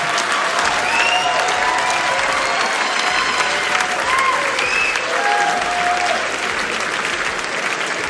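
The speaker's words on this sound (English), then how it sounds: "I like how y'all just applauded child abuse" A comedy club audience breaks into sustained applause, a loud, full crowd clapping for several seconds with cheers and faint whistles rising over it.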